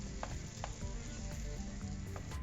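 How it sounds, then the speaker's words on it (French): Frozen green peas sizzle steadily in a hot frying pan while being stirred, with a continuous close crackle and soft scraping taps of the utensil, no voice. "je vais bien mélanger le tout pour aromatiser mes petits pois"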